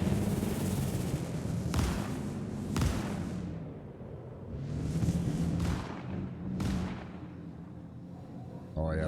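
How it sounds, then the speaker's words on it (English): A scatter shotgun in Star Citizen fires several heavy, booming blasts spaced a second or two apart, each trailing off in a rumbling echo, with no talking. "it's like a scatter shotgun"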